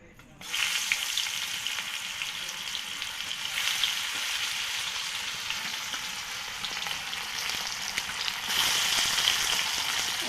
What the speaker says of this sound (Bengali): তেল গরম হয়ে গেছে, এখন মাছ ভাজে নেব।